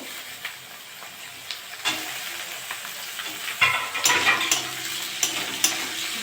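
Chopped carrot stirred into a pan of fried onion and green chili for chowmein, a continuous sizzle broken by scraping stirs and louder spitting bursts in the second half.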